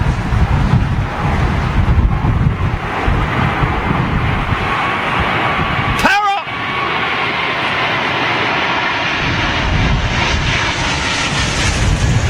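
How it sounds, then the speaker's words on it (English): Twin-engine Boeing 787 Dreamliner coming in to land at London Heathrow in stormy wind: a loud, steady engine roar with heavy wind buffeting on the microphone, broken by a brief dip partway through. "Looks like a Dreamliner to me."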